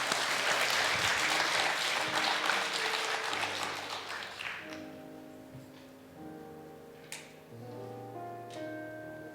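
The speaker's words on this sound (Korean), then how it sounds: "우리 박수하시겠습니다" A congregation at a Friday prayer meeting bursts into loud applause that fades over several seconds, giving way to soft sustained keyboard chords underneath.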